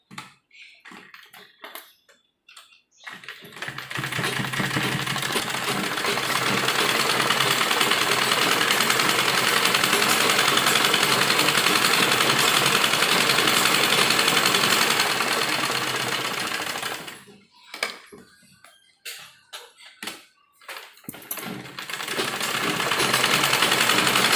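A sewing machine stitches an embroidered sleeve with lining in a long continuous run of rapid mechanical whirring, close and steady, framed by short bursts and pauses at the start and end.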